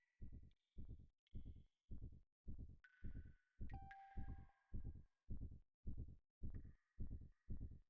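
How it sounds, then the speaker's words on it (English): A heartbeat throbs in the video game Xenogears, thirteen evenly spaced low pulses over a faint ringing synth tone that briefly pings and shifts, with no talking. "I hear a heartbeat."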